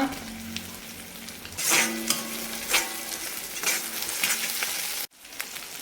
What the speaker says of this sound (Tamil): அதுக்கப்புறம் வெட்டி வச்ச பெரிய வெங்காயத்தை சேர்த்துக்கலாம்